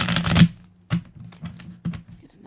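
Tarot cards being shuffled in a few short bursts, a dense riffle at the start followed by scattered softer slaps and taps, close and fairly quiet.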